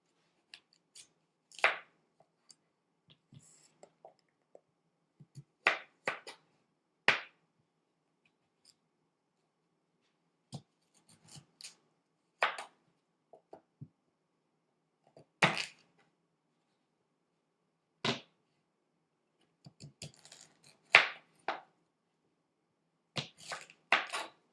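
A knife slices meat for braising on a board in separate, sharp cutting strokes with quiet gaps between them, close by in an otherwise silent kitchen.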